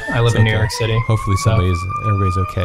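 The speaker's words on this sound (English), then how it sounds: "Sorry about the siren that's going by." A siren passing by outside in New York wails steadily in the background, rising slightly in pitch, while a person talks continuously over it.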